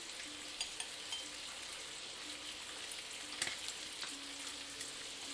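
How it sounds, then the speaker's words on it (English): Bacon fries in a pan with a steady, dense sizzling crackle throughout, close and continuous, with a few slightly louder pops and no talking over it. "I hope you can hear the delicious sizzling of the bacon"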